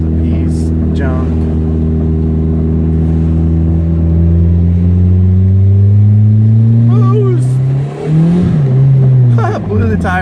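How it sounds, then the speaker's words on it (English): A car accelerates hard in second gear and spins its tires, the engine note climbing loud and close before a harsh scrabbling burst near the end, with a voice talking over it. "That second gear blew the tires off, and I just like rolled into it."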